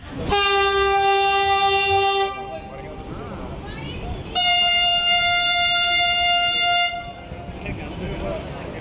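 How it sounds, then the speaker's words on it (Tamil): A driverless metro train on a test run between Poonamallee and Porur sounds two long, loud horn blasts over the rumble of the moving train. "ஓட்டுநர் இல்லாத மெட்ரோ ரயில் சோதனை ஓட்டம் நடைபெற்றது"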